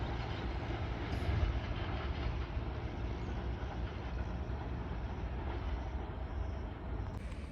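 The Pak Business Express train rumbles across a railway bridge near Karachi, a loud, continuous roar of wheels and carriages passing close by at speed.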